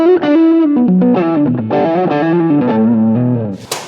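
An electric guitar plays a melodic phrase of sustained notes through a NUX stompbox pedal set with generous gain, giving a warm, saturated distorted tone, loud and close with no talking.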